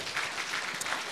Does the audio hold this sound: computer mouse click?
no